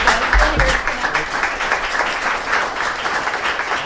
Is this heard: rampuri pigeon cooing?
no